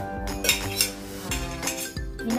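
Dry ingredients stirred in a bowl in a home kitchen, a spoon or whisk clinking and scraping repeatedly against the dish in uneven, fairly close strokes.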